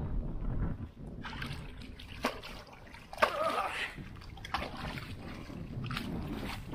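Water drains into a storm drain partly blocked by leaves on a very windy day, with irregular splashing, sloshing and gurgling bursts over a rushing, gusty background.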